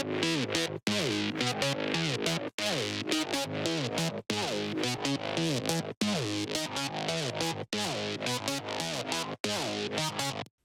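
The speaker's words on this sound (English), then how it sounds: "I added a chorus and a dimension to have a little bit more of a rich character before we go into the distortion" A distorted synth lead thickened with chorus and dimension effects plays a repeating phrase of gliding, sliding notes, loud and dense, with brief gaps between phrases.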